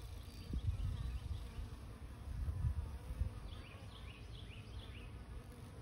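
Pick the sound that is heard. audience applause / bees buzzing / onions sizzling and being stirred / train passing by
bees buzzing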